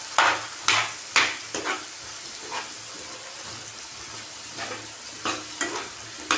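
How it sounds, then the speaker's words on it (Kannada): A ground masala of green chilli, coconut, cumin and garlic is stirred in a pan, with a soft steady sizzle underneath and sharp spoon scrapes and knocks against the pan coming in irregular bursts. "ಆವಾಗಲೇ ರುಬ್ಬಿಟ್ಕೊಂಡಿದ್ನಲ್ಲ ಹಸಿಮೆಣಸಿನ್ಕಾಯಿ, ಕಾಯಿ ಮತ್ತು ಜೀರಿಗೆ ಬೆಳ್ಳುಳ್ಳಿ ಹಾಕಿ ಆ ಮಸಾಲೆನ ಮಿಕ್ಸ್ ಮಾಡ್ತಾಯಿದ್ದೀನಿ"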